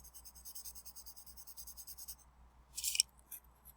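Graphite pencil shading on paper in a drawing exercise: rapid back-and-forth scratchy strokes for about two seconds, a pause, then a brief harder scribble, close and alone.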